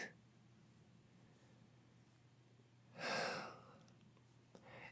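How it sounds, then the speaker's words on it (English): One loud, close breath, a hissing exhale lasting about half a second, heard alone against a quiet low hum in a mad scientist setting where a vat-grown creature comes to life. "The subject is breathing."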